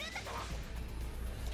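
The cat special attack Dynamic Neko End in the game Yo-kai Gakuen Y, with a short cat-like meow call over game effects while a voice talks through it.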